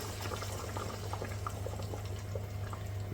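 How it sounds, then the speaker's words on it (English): Maggi sauce splashed into a hot pan of seared Greek-style lamb, giving a steady close sizzle and bubbling hiss with small popping crackles throughout, alone without talk. "It's time for our first splash of the Maggie's. So, like I said, I might get a bit of bubbling."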